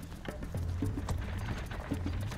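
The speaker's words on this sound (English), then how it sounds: "traveling at a gallop takes a little bit of getting used to" Two horses with modern bridles pulling a chariot with a driver and a warrior at a gallop, their hooves clip-clopping in quick irregular beats under a steady rumble of movement and wind.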